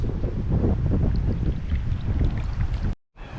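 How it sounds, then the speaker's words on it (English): Strong gusty wind buffets the microphone on a river during kayak fishing, a loud continuous low roar with flutter, steady throughout until a brief cut near the end, no voices. "I swear the wind is getting worse."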